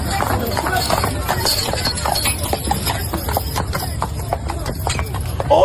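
Hooves from a horse-drawn carriage clip-clop in a brisk, steady rhythm, prominent and fairly close, with a horse whinnying briefly near the end and people talking over it.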